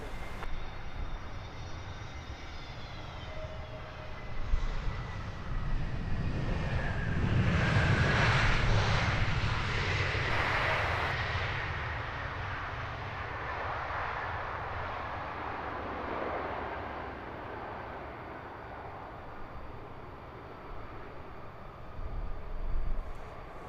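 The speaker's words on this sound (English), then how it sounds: "EasyJet from Amsterdam acing that landing in a very subdued rollout" An EasyJet airliner lands and rolls out at Luton Airport: a distant jet roar swells to a broad rushing peak midway, then eases into a fading whine with occasional rumbles.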